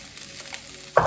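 Shrimp dropped into a pan of frying vegetables bursts into a loud, close sizzle at the very end, after a stretch of quieter background frying.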